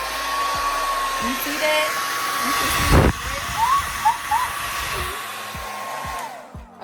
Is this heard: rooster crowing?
no